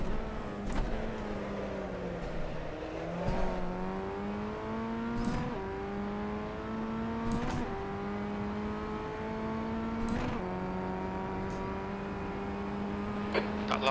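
A Formula Ford FF1600 race car engine on a lap of Knockhill in iRacing, droning steadily close up with its pitch climbing and dropping again and again through gear changes, with no talking.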